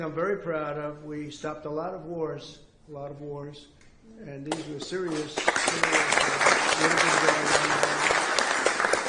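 A crowd bursts into sustained, loud applause and cheering for a politician, rising abruptly after a voice speaking through a sound system and continuing dense and steady to the end.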